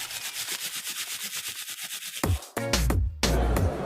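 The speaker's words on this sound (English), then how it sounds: "he rubbed and polished wooden furniture" Rhythmic rubbing and polishing strokes on wooden furniture, a steady back-and-forth swish repeating for about two seconds, then giving way to louder, denser clatter and thumps.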